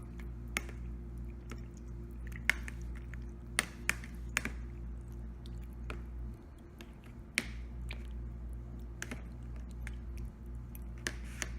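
Fish ceviche is stirred in a bowl, sharp sporadic clicks and wet squishes against a steady low hum, close and fairly quiet.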